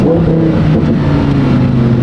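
A Lamborghini engine drones loud and close at a steady rev, with a thick rumbling exhaust note and no voices.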